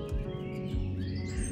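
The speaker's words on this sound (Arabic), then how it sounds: "شوفوا العصافير سمعوا" Small birds chirp and tweet in the countryside near stables and cattle, a few brief calls standing out over a steady low background, with no one speaking.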